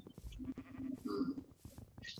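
Sheep in the Minecraft video game bleating several times, short quiet bleats scattered among game sounds and people talking.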